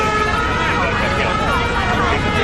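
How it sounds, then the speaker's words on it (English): Emergency sirens wail continuously in a British Army advert, rising and falling sweeps over a busy street bed, loud and close, with voices mixed underneath. "Listen past the sirens,"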